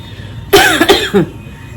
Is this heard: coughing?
yes